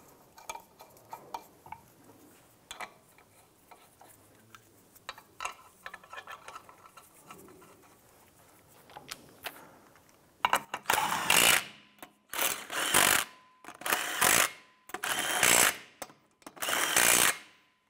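Lug nuts on the rear wheel of a 2005-2007 Ford Five Hundred are run down with a power tool in about six loud, close bursts of whirring and rattling, each separated by a short pause, after a stretch of quieter clinking.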